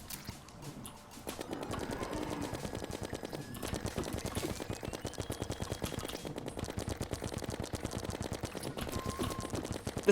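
Rapid bursts of silver-bullet gunfire from a Don't Starve Together boss fight hammer away in a fast, even rhythm for about ten seconds, loud and close, with a faint tone drifting underneath.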